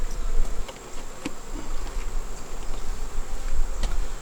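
Honey bees buzz around an opened hive during a beekeeping inspection, a close, continuous drone with a few louder passes and faint handling noises, no talking.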